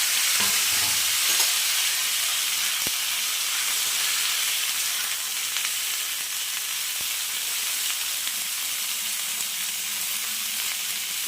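Cauliflower frying in a pan for a cauliflower roast gives a continuous, even sizzle, with a few soft stirring taps near the start and no voices.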